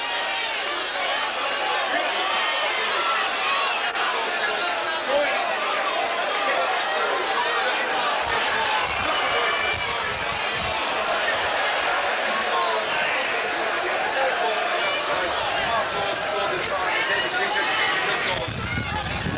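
Dense, steady roar of a large crowd at a Castleford v Leeds rugby league match, cheering and chattering continuously throughout at a fairly loud level with no pauses.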